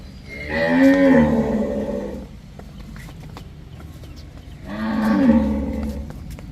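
Cattle low with two long, loud moos, one early and one near the end, separated by a quieter pause, recorded at a dairy farm in Punjab where cows yielding about ten litres of milk are offered for sale.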